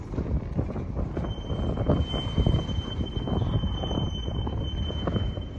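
A westbound Norfolk Southern manifest freight train rolls past a road crossing, its wheels and cars making a steady loud rumble with a faint high wheel squeal running through, no voices.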